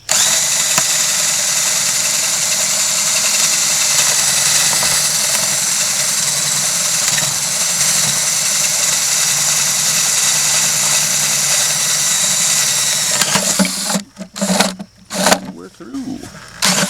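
A power drill bores through a plastic bucket on low gear, grinding steadily and loud for about fourteen seconds, then stopping and restarting in short bursts near the end, with a voice speaking during the drilling.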